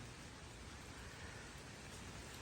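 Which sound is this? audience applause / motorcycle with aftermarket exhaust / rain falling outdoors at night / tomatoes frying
rain falling outdoors at night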